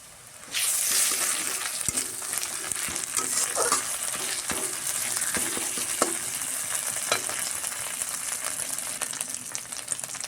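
Ginger paste and a slit green chilli frying in hot oil for a Bengali brinjal and roopchand fish curry, a steady close sizzle with scattered spoon-stirring clicks throughout, no talking.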